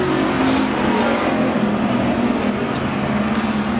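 Pure stock race cars circle an Arizona dirt speedway, their engines producing a loud, continuous roar as a pack at close range, with no voices over it.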